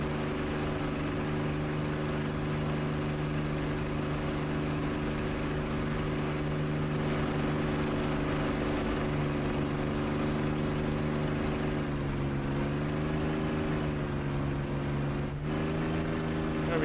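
A TF-51D propeller aircraft engine drones continuously in DCS World, a steady close rumble with tonal harmonics that dip slightly in pitch near the end as speed is reduced, with no talk.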